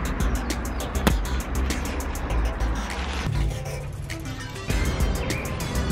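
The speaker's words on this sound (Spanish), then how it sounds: "porque aquí pasa mucho carro. Está muy escandaloso hoy acá" Cars rush past one after another on a busy, noisy road in Costa Rica, a steady, loud roar of traffic with swelling passes close by. A faint voice speaks now and then.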